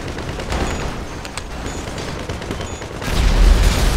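Explosions go off during a GTA 5 race, a dense, continuous rumble of blasts and crackling debris that swells louder and deeper near the end.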